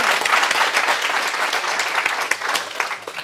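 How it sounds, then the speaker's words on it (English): An audience of massage therapists at a pain science talk during a state convention gives a steady wash of applause. Claps are dense and close, holding the same level throughout and tapering slightly at the end. "let's give a round of applause to the 20 to 60 group there"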